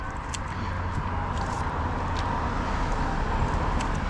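Road traffic beside a garden flower bed gives a steady, unbroken wash of vehicle noise, moderately loud and continuous throughout.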